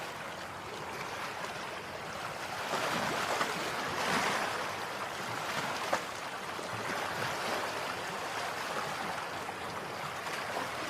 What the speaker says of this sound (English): The waves were too strong.